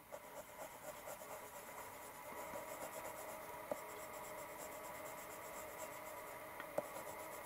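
A pen, still slightly wet, scratches and rubs across paper in continuous drawing strokes, close and quiet, with a few tiny taps as the tip lifts and lands.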